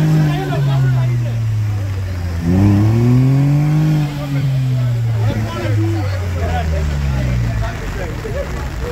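A car engine roars and revs loudly at a muddy race at Sunset Corsa in Nyahururu, pitch climbing and dipping in strained surges as people shout nearby.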